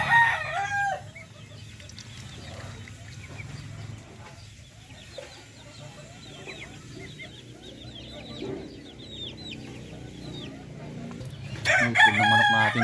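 Chickens cluck and chirp close by, with a rooster crowing at the start and again near the end, amid a low farmyard background and some talking.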